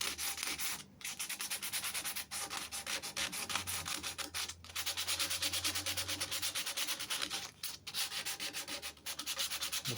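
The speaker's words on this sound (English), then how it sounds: "I'm going to take some sandpaper." Sandpaper rubbed by hand over pine boards for a shelf and pegboard unit, a continuous scratchy rasp in repeated strokes with brief pauses between passes, close and steady throughout.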